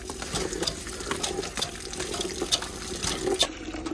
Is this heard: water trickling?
yes